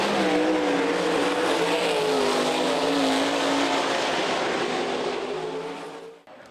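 Sprint race cars roar past at Eldon Raceway during a Sprint Invaders A-main, a loud, sustained engine drone with shifting pitch that holds steady before fading away near the end.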